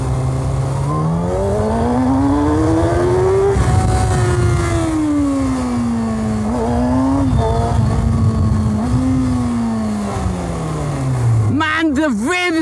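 Kawasaki Ninja ZX6R 600cc superbike engine pulling hard in second gear, pitch climbing steadily, then quick downshifts with rapid revving blips at the end, loud and close, with someone talking over it.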